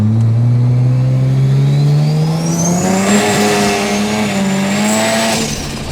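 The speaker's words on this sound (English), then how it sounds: "if you step on the pedal on this thing, it really just rockets to amazing levels" A 1970s Mazda RX-3 accelerating hard, its engine pitch climbing steadily through the gears with a sharp shift and a rising high-pitched whine, loud and close.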